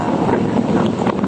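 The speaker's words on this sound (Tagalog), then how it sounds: "Gusto ko talaga ang nakamotor kasi mahangin siya." Wind roars steadily into the microphone while riding a motorcycle, a loud, constant rushing buffet with no talking.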